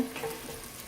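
Garlic is stirred into a sizzling soup pot, giving a brief soft frying hiss with light scraping from the spoon, close and quiet, ending in a small clink.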